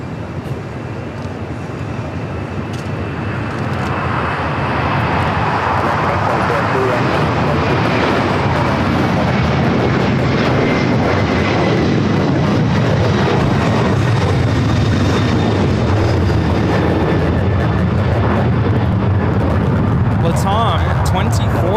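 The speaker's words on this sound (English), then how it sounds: "2479 taking off to Lima, Peru on the 767-300ER" A LATAM Boeing 767-300ER jet takes off from LAX, its engine roar swelling after a few seconds into a loud, sustained rumble and hiss that fills the air, with people talking nearby.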